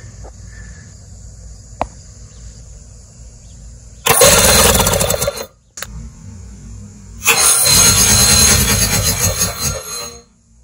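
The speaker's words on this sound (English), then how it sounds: "I'm gonna just crank the engine and see what our compression is" A 1980 Chrysler 45 hp outboard motor that runs poorly and needs a tune-up is cranked over for a compression check, giving two loud, close bursts of churning starter noise separated by a short pause.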